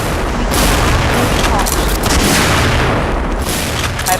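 A house blows up in the shooting game Xshot with a loud, sustained, crackling roar that fills the whole moment, bursts swelling and fading over about four seconds.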